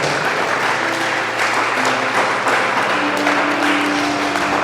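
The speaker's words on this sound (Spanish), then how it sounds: "Denle una ofrenda de aplausos." A church congregation applauds during a service, dense, steady, loud clapping from many hands filling the room, with faint voices underneath.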